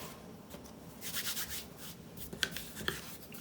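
A bench scraper scrapes and rubs against Neapolitan pizza dough on a work surface, giving soft, close, dry scuffing strokes with a couple of sharper ticks near the end.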